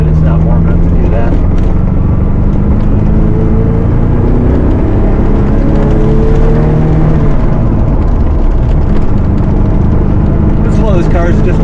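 A Ferrari 308 QV runs in midwinter, its engine droning steadily and shifting pitch as it pulls through the gears while driving, with a voice partly audible over it.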